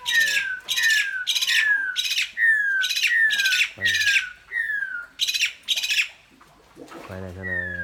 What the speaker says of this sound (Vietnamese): Con này con gì? Con này con